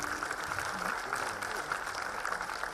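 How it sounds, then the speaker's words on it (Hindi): Audience applause fills the hall at a book release function for Sree Iyer's book "C - Company", a steady, dense clatter of many hands that runs the whole moment, with a voice faintly mixed in. "तालियों की गूंज होनी चाहिए."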